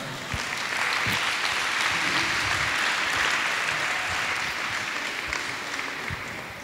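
Steady audience applause at an international dance festival for performers with and without disabilities, a dense, even wash of clapping that holds for several seconds and fades slightly at the end.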